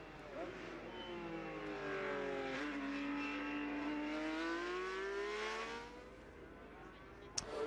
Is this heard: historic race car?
yes